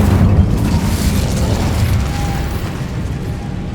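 The Incendio fire spell bursts in Hogwarts Legacy, a loud, broad whooshing blast that rolls on and slowly fades over a few seconds, with no talk.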